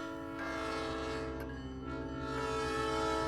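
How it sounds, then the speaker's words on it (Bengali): A train horn sounds in a long, steady, loud blast with strong layered tones as the train arrives, holding throughout with no voices. "আপনার মেবি ট্রেন চলে আসছে"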